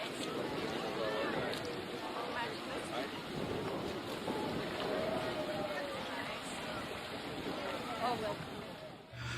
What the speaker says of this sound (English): There is a stiff wind which has intensified the waves.